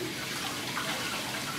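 Hands being washed under running tap water before handling a kombucha SCOBY, a steady close hiss of flowing water and splashing with no talk.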